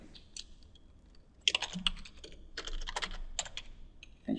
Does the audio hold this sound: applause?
no